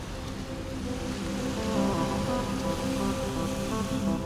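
Ocean surf along the shore at Penang, Malaysia, as a steady, dense wash of breaking waves that swells slightly midway and holds constant, with no voices.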